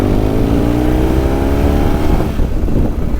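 A 2004 BMW R1200GS motorcycle on an off-road green lane, its boxer engine droning loud and close under throttle with a steady rising pitch, then easing off near the end.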